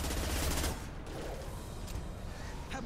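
Rapid bursts of gunfire in the video game Mass Effect 2 crackle continuously, dense and noisy, with a heavier burst at the start.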